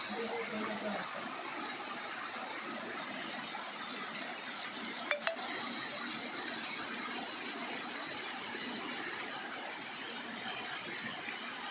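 Nisarg waterfall near Bhandardara in India gives a steady, broad rushing roar of falling water heard from a distance, with one brief sharp knock partway through and no speech.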